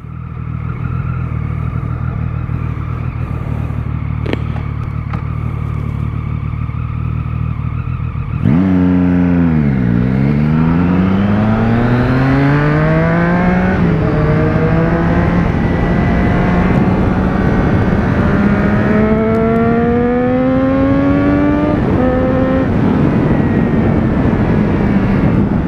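Yamaha XJ6 motorcycle heard from a riding position: a steady idle-like drone gives way to a sharp downshift, then a loud, sustained rev that climbs in pitch through several gears and stays close and alone throughout.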